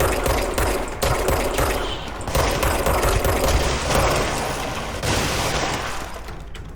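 Loud, sustained rapid gunfire with bursts of shots and booms, dense and continuous, from the video game Control.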